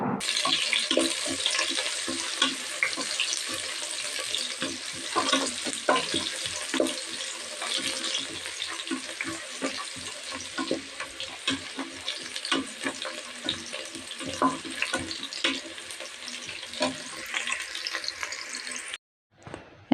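Green chilies and biryani ingredients sizzle steadily in a pan while being stirred, with a continuous frying hiss and frequent scraping clicks of the spoon, close and without speech.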